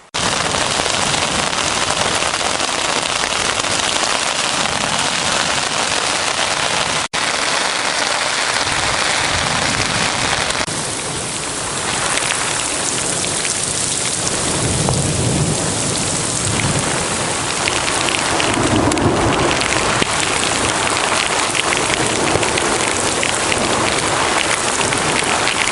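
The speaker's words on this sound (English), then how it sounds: "Apocalyptical storm of last night." Heavy rain pours steadily over a Turkish stretch of the St Paul Trail during a violent night storm, a loud dense wash with thunder rumbling in the low end and no voices.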